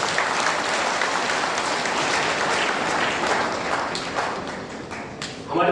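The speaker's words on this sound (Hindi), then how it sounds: "एक बार आप जरूर तालियां बजाएं।" Audience applause at the annual convention of a student organization in a hall: dense, loud, sustained clapping from a large crowd, steady throughout and thinning slightly near the end before a final surge.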